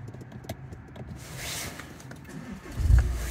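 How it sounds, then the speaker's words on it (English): A Nissan J11 starts up: quiet clicks and a faint whirr, then the engine catches with a low rumble and settles into a steady idle near the end. "And that's the car there started now."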